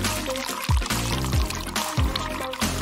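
Water pouring onto a plant decorating a glowing artificial tree, splashing in short repeated bursts over a busy musical background, loud and close.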